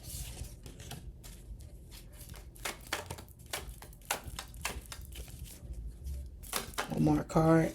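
Tarot cards being shuffled by hand, giving a run of soft papery riffles and flutters of varying loudness, close by, with a brief voice near the end.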